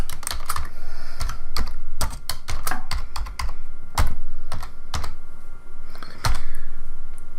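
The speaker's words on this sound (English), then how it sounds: "Type in temp topo drawing." Typing on a computer keyboard while entering a file name for a drawing, a close, clear run of crisp key clicks in quick bursts with short pauses, no voices.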